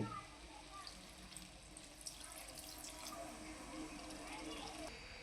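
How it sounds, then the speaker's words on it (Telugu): Half a glass of water pours steadily into a potato egg curry pan, a soft continuous splashing and trickling that stays fairly quiet throughout. "ఇప్పుడు ఇందులో ఒక అర గ్లాస్ వాటర్ వేసుకుంటున్నాను నేను"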